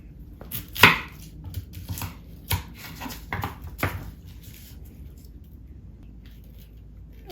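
A knife cutting through vegetables on a board, a few sharp separate chops with quiet gaps between them, the first one loudest, followed by a stretch of near silence.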